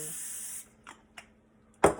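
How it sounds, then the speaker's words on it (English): Cooking spray hisses into a disposable foil pan in one steady half-second burst, followed by a couple of soft taps and a louder clatter. "I'm gonna spray the cooking spray."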